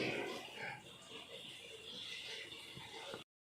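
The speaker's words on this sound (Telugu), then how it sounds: "రోడ్డు మీద దిబ్బల మీద మేసే పందులు ఇవే అనమాట" Pigs grunt and snort close by in low, uneven bursts over a noisy outdoor background.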